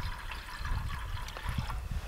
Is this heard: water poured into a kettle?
yes